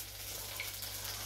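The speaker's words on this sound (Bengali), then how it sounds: "এখানে পাঙাশ মাছগুলো ভাজা হচ্ছে" Pangas fish frying in oil produces a continuous dense sizzling hiss, close and steady over a low background hum, with no voices.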